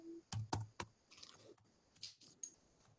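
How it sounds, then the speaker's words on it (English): A computer keyboard is typed on one-handed, giving a few sharp, close key clicks early on and then sparser, softer taps over a quiet room background. "I'm typing one-handed because I'm holding a dog."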